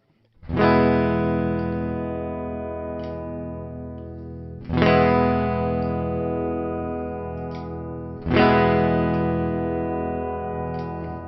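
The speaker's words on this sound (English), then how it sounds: "see how the reverb just jumps up in volume there?" An electric guitar played through a NuX Atlantic delay and reverb pedal sounds three strummed chords, each ringing out and decaying slowly in a long, washy reverb tail, with no talk.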